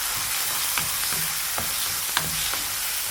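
Green chillies with a pinch of turmeric frying in a pan, a steady hiss of oil with a few soft scrapes as the mixture is stirred, close and alone.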